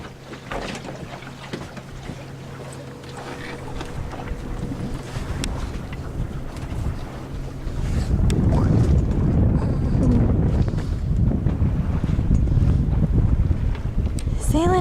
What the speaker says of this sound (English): Sailing out of Boston Harbor.